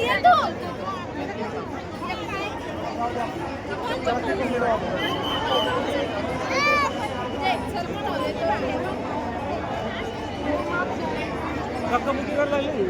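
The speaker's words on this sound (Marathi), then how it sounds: "किती गर्दी आहे" Dense crowd of devotees at the Sant Dnyaneshwar Maharaj palkhi procession toward Pandharpur, a continuous babble of many voices with a person talking nearby.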